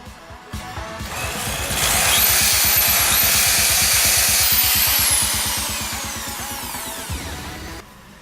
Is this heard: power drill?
yes